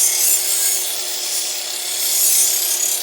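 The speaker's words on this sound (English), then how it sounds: "So where I was buffing the edge like this" A power sharpener buffs a kitchen knife edge, giving a steady high-pitched hiss and grinding rasp that swells and eases slightly as the blade moves along the wheel.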